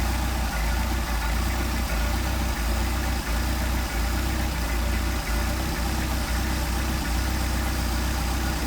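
A Mercedes 190SL engine with a Solex carburetor idles steadily near 800 rpm, a close, loud, even rumble with a faint regular pulse and no talking.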